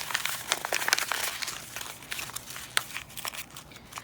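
A big piece of brown paper crumpled by hand up close, crackling and crinkling in a steady busy burst that thins out toward the end, with no talk.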